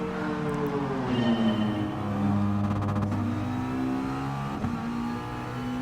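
Race car engines revving together at a rolling start on cold tires at Laguna Seca in GT Sport, a loud sustained multi-car drone with rising and falling engine pitches, no talking.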